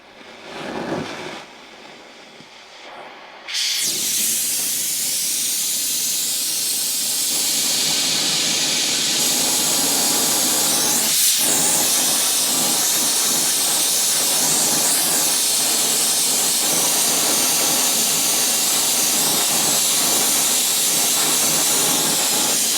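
A brazing torch hisses steadily and loudly while heating flux-impregnated brazing rods for making long drills, starting after a few quiet seconds and then roaring continuously without pause.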